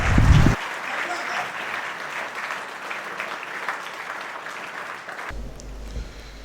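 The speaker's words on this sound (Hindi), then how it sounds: "एक बार जोरदार तालियां बजाइए।" Loud applause from a student seminar audience, sustained dense clapping for several seconds after a brief voice at the start, with speech resuming near the end.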